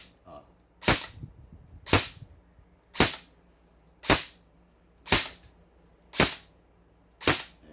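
Airsoft Glock 18 or M4A1 firing single sharp cracks, seven evenly spaced shots about one second apart, loud and close with brief quiet between them.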